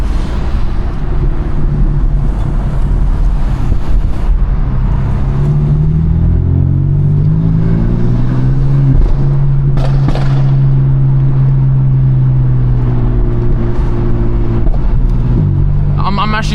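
A BMW M4 drives with its clutch under strain, the engine droning loud and steady with rising and falling pitch sweeps as it revs and shifts, under intermittent talk.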